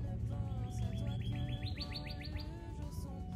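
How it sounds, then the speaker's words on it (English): Birds chirp and tweet in quick repeated calls in a forest, with a rising series of bright whistled notes over steady outdoor background noise. "I love the noises of the birds."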